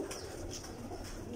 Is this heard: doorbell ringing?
no